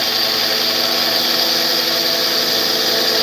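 A grinder runs continuously in a forge, a loud, steady high whine with a broad hiss and no pauses, close by and filling the space with no talk over it.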